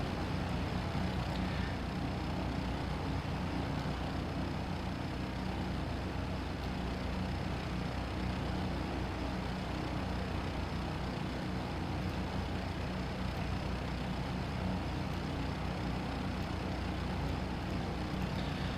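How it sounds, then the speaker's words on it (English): A Lancair Legacy light aircraft engine idling in a flight simulator game, a steady low droning hum holding an even level throughout, with no voices over it. "Just going to set up the engine to idle."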